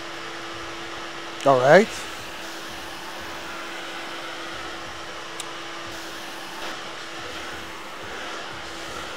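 A Miele Triflex HX1 cordless vacuum runs on medium suction, a steady, even whirring drone throughout, with a person speaking briefly near the start and a couple of faint clicks.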